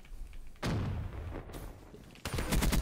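Two loud bursts of Call of Duty Black Ops 3 gunfire with booming, rattling shots separated by a quieter gap, close and forceful with no talk over them.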